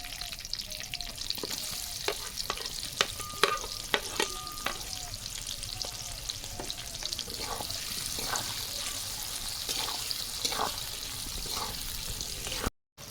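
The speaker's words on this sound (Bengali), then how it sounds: "কাঁচা লঙ্কা চেরা দিয়ে দেবো পেঁয়াজ কুচি দিয়ে দেবো" Split green chilies and chopped onion fry in a hot pan for restaurant-style chicken do pyaza, giving a steady close sizzle punctuated by sharp spatula clinks and scrapes as they are stirred.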